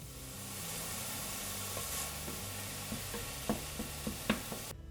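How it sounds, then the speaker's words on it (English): Ground beef sprinkled with red chili powder sizzles steadily in a pan, with soft scraping and stirring taps rising near the end; no talking. "you're going to mix in the ground beef with it."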